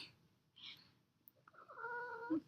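A pet cat gives a short, close, low vocalization, a soft breathy sound followed by a rising drawn-out meow-like cry near the end, alone in a quiet room.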